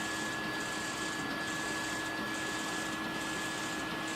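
A 3D printer extruder grinds on jammed filament with a constant close whir and rough hiss, broken by faint periodic pulses over about four seconds.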